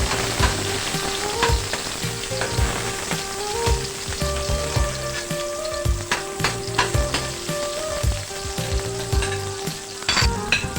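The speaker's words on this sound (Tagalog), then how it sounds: "At kapag init na ang mantika, ay pwede na nating umpisa ng paggisa. Inuna ko dito ang ating sibuyas." Sliced onions sizzle and crackle steadily in hot cooking oil as a sauté base for adobong upo, a Filipino bottle-gourd stew. The frying runs loud and continuous, with scattered pops and stirring clatter and no voices.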